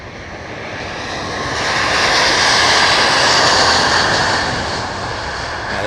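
An Airbus A350-1000 jet rolls down the runway for takeoff at the Farnborough Airshow, a loud, continuous engine roar that swells to a peak midway and then eases slightly.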